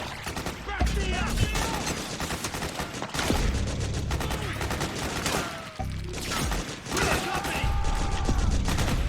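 Heavy sustained gunfire in Metal Gear Solid 4, rapid machine-gun bursts and overlapping shots with mechanical clatter, loud and continuous, with shouting voices mixed into the battle.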